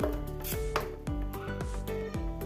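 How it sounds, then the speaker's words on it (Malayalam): A knife cuts peeled cassava into rounds on a board in about five firm chops at an even pace. Each cut ends in a distinct knock, and no one speaks. "കപ്പ തോല് ഒളിച്ച് നമുക്കിങ്ങനെ വട്ടത്തിൽ അരിഞ്ഞെടുക്കാം"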